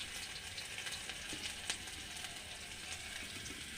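Onions with garlic paste fry in oil with a faint, steady sizzle and crackle, soft and close, with a few light stirring clicks.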